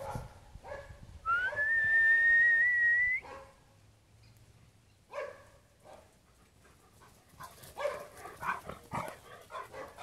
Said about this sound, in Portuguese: Vamos parar de latir, que eu preciso aqui de um tempo.